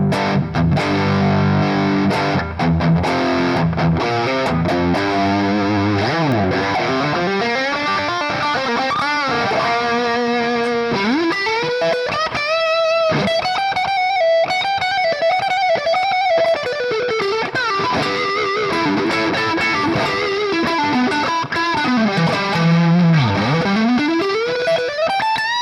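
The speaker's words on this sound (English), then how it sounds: "This is undoubtedly the Marshall GSM 800 sound, especially with this tube screamer." Electric guitar through a NUX MG-300 on a Marshall amp model with tube screamer distortion, playing heavily distorted, sustained lead bends and riffs, loud and continuous with no talking.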